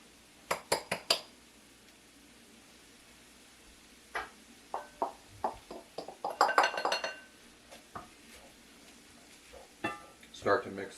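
Chorizo hash with cumin, oregano, paprika and chili powder being stirred in a pan: a quick burst of metallic clinks at the start, then a steady run of utensil taps and scrapes against the pan, fairly close, with a faint sizzle beneath.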